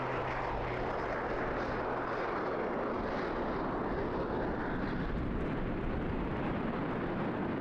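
A Pitts Special aerobatic biplane with an airframe of 1940s design, flying at an English seaside airshow, makes a loud, continuous engine roar that stays broad and dense throughout, with no talking.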